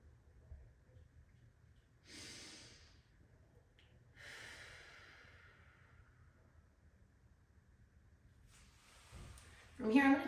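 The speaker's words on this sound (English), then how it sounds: "We're going to take 3 deep breaths into this stretch." Slow, deep breaths taken during a hip and low-back stretch, two long audible exhales heard close in an otherwise quiet room, followed by a third breath and a voice starting to speak at the end.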